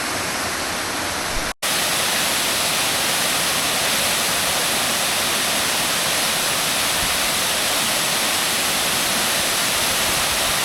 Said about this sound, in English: welcome to one of the tallest waterfalls in Thailand